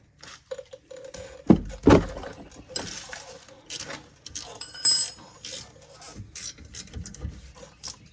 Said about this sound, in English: If you don't have a breaker bar, do this with your wrenches.